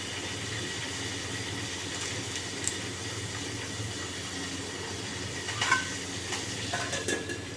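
Curry leaves and spices fry in a pan with a steady, faint sizzle, while a few brief clinks of stirring stand out near the end.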